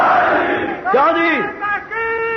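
A crowd at a religious gathering chants slogans for Imam Hussain, with loud, rising collective shouts in bursts, close and echoing, alternating with a leading voice.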